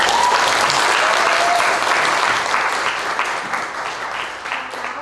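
Large audience applauding pitch competitors at a leadership summit, loud dense clapping that gradually fades over a few seconds.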